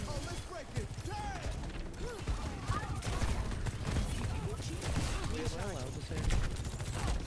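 Scattered gunshots and mechanical clicks from a competitive shooter video game, fairly faint under game effects and a continuous background of talk-like sound.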